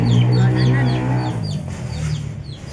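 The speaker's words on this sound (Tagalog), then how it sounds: "Ang manok." Pet chickens clucking nearby, a short run of soft repeated clucks and calls with a low voice-like hum underneath, fading slightly toward the end.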